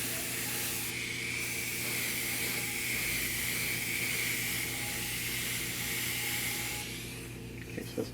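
Airbrush spraying mist coats of paint onto a 1/4-scale custom model, a steady close hiss holding for most of the stretch before easing off near the end.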